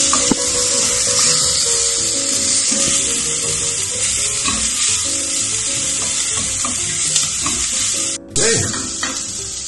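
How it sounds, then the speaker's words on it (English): Food sautéing on high heat in a pan, a steady dense sizzle running throughout with faint stirring scrapes and a brief dip near the end. "Been sautéing for a couple of minutes."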